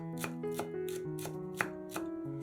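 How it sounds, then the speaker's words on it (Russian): About seven crisp knife strokes chop a small bunch of parsley on a cutting board, evenly spaced and close, over a faint sustained musical tone with no talking. "Нарезаем небольшой пучок петрушки."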